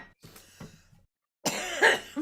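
A few short, close coughs, followed after a pause by a harsher, louder cough burst.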